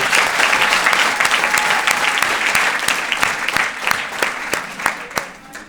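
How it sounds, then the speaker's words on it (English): Steady applause fills a graduation hall as the multilingual department team of MPS is honored, many hands clapping in a bright, continuous patter with distinct close claps popping out, tapering slightly at the end. "And let's give them a round of applause for this."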